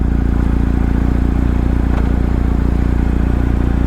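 A 2022 BMW R 1250 GS Rallye runs with a steady, close boxer-engine drone and a dense low throb, holding an even level throughout with no voices.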